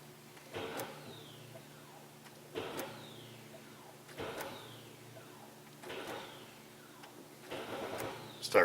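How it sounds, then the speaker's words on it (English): A car's starter motor cranks in four separate bursts, each a whirring grind that winds down with a falling whine. The bursts come a few seconds apart at close range, with quiet gaps between them and no talking. "Starter sounds awful anyways when it winds back down"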